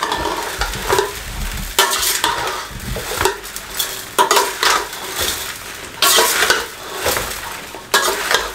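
Mango pickle pieces stirred with a spoon to coat them in spices, giving repeated scraping and clinking strokes in bursts, close and fairly loud, with no talking.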